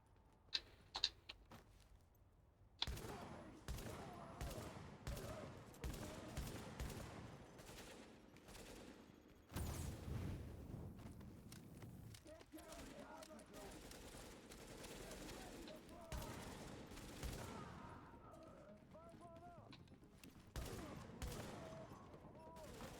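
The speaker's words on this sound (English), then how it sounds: "Shotguns." Gunfire in The Division video game, with repeated heavy blasts and bursts of shots at varying distance over a noisy battle mix with scattered impacts.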